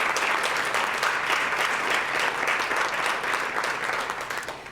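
Steady audience applause fills a human rights awards ceremony in Iowa City, dense and even throughout before tapering slightly at the end.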